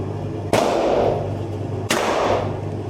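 Two loud AK-47 rifle shots fired at a shooting range, about a second and a half apart, each a sharp crack that rings out and decays over a steady low background hum.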